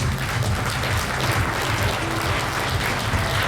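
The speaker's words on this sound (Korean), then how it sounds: "여러분 다시 한번 큰 박수로 축하해 주시기 바랍니다." An audience applauds at a 2015 fintech award ceremony honoring industry contributors, a dense, even wash of clapping that stays steady and loud throughout.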